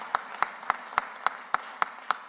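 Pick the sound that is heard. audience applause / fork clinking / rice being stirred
audience applause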